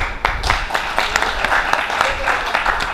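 Audience applause at a Pakistani stage comedy show, a dense steady patter of many hands clapping for the full stretch, fairly loud and continuous with a slight roomy wash.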